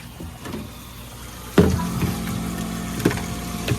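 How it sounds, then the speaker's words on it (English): Hot water starts gushing from a tap with a sudden onset, then runs in a steady splashing stream, with a couple of knocks and clunks on top, close by. "Turn the hot water on."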